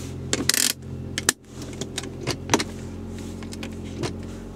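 Power window of a 2001 Acura 1.7 EL sliding down inside the car, a short motor hum with a few clicks and small knocks close by, no talking.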